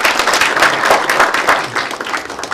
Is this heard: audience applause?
yes